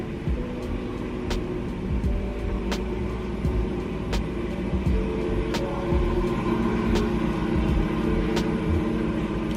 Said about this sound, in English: I have a garage right downstairs, and you can hear everything when, you know, when the cars are starting up